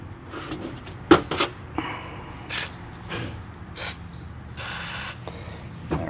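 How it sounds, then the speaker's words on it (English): Short aerosol bursts of lube sprayed onto the top end of a 2023 KTM 300XC TBI engine, several brief hissing puffs mixed with small metallic handling clicks, close by. "Spray some lube in that."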